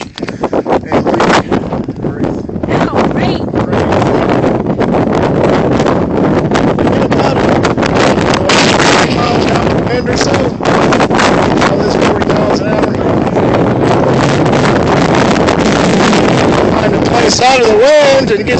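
Strong wind buffets the microphone on an exposed mountain summit along the Appalachian Trail, a steady loud roar and rumble running throughout, with voices talking now and then under the gusts.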